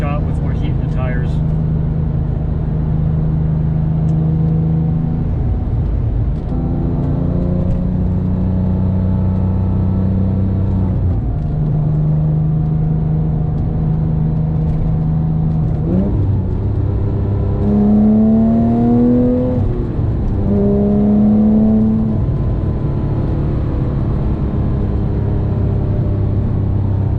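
Porsche 997.2 GT3 with a COBB tune accelerating hard, the engine climbing through repeated rising pulls with brief dips at gear changes, loud and close from inside the car.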